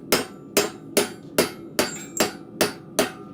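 A blacksmith's rounding hammer strikes steel in a forge, eight sharp ringing blows at an even, steady rhythm, close and clear with no talk.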